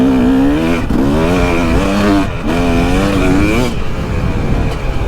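Carbureted 2017 KTM 300XC two-stroke dirt bike engine revving close by and loud, its rising and falling harmonic whine swelling in repeated pulls with brief dips between them.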